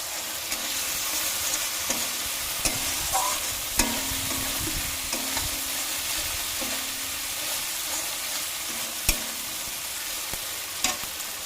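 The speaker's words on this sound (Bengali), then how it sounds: "তো এবার আরেকটু ভাজতে হবে।" Egg curry gravy masala sizzles steadily in a pan while being stirred and fried, a continuous close crackle with occasional sharper knocks of the spoon against the pan.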